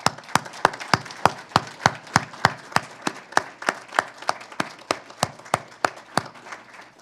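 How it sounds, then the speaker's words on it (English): Applause at an award ceremony comes as about twenty crisp, evenly spaced claps in a steady rhythm, close and distinct, with no talking. "you all deserve a round of applause for getting here"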